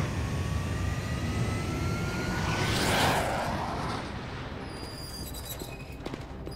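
An airplane engine roars in the video game LEGO Marvel Super Heroes, a steady jet-like drone that swells to a peak midway, then fades and gives way to lighter effects.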